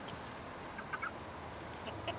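Hens cluck softly in a few short, scattered calls over a steady, noisy outdoor background, with no one talking.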